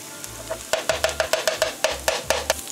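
Garlic cooks in hot ghee for curry fried rice, with a soft sizzle under a quick, regular series of sharp spoon taps and scrapes against the pan, close by.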